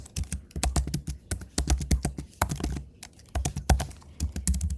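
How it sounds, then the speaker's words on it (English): Someone types on a computer keyboard with rapid, uneven bursts of close, crisp keystrokes and short pauses between runs. "So one way we can do this is we can literally type"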